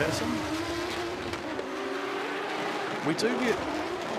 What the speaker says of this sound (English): We do from time to time, Keske, we get a lot of requests from people just wanting to hear the cars sing.